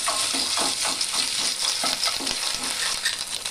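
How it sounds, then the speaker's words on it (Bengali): A bay leaf is stirred in hot oil in a pan for papaya dal: an even, bright sizzle with soft scraping strokes that repeat through the whole stretch, close by and with no voices. "একটা তেজপাতা দিয়ে ভালো করে নেড়ে নেব।"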